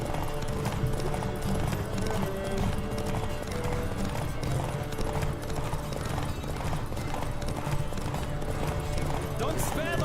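Horse hooves clip-clop rapidly in a steady galloping rhythm in The Witcher 3, loud and continuous throughout, with game music and speech underneath.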